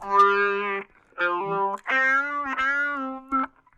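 Guitar played through an MXR M222 talk box into a less distorted amp, giving a series of vowel-like, voice-shaped sustained notes with sharp starts and brief gaps between phrases.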